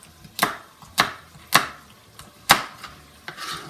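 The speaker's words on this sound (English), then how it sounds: "I'm going to start cutting the carrots into small pieces." Knife chopping carrots into small pieces on a board, five or six sharp separate chops at an uneven pace, close and fairly loud, with no voices.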